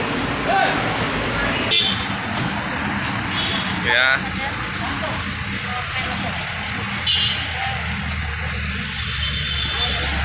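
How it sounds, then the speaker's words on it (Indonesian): An intercity bus departs carrying returning holiday passengers to Medan, its heavy diesel engine rumbling steadily close by while short horn toots sound and people talk nearby. "bus akan diberangkatkan ya teman-teman ya"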